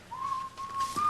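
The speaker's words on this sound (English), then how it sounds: "Why were you whistling?" Someone whistles a short tune, a clear, thin sustained note that slides slightly in pitch, close by and alone over quiet room tone.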